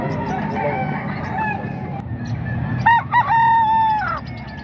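Chickens and a rooster at a market stall in Calumpit, a loud nearby crow rising and holding over steady clucking and crowd murmur, with other birds calling in the background.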